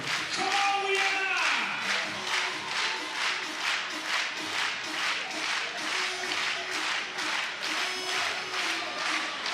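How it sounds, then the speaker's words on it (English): Crowd at a FIBA 3x3 Basketball World Cup game in Vienna clapping hands in a steady rhythmic beat, loud and sustained, with arena music and a commentator talking over it. "Ladies and gentlemen, clap your hands together."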